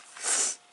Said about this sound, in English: I've got a bit of a sniffle going on